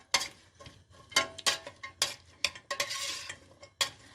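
Carrots and onions cooking in oil in a pan for a leek dish, stirred with repeated scraping and clattering strokes against the pan over a light sizzle, close and fairly loud with no voices.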